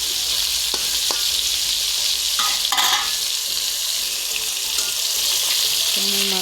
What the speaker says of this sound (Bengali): তো আমি এখন মাখায় গরম তেলের মধ্যে মাছটা দিয়ে দিলাম, মাছটা ভাজা ভাজা করবো।